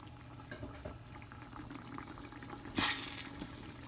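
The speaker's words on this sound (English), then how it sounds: "Now I'm going to put some more of these in there and mash them" Blanched tomatoes being mashed in a cooking pot for marinara sauce, a soft wet squelching and sizzling with a louder splashy burst near the end, close and without talk.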